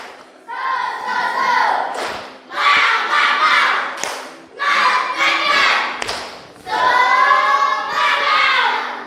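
A classroom of pupils doing the rhythmic tepuk semangat spirit clap, with four bursts of clapping and chanting voices separated by short pauses.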